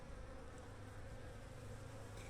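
Honeybees hum in a dense, steady buzz as they fly around the upper and lower hive entrances, close and continuous throughout.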